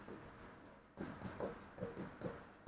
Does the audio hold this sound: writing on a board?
yes